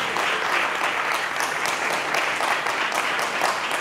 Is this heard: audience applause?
yes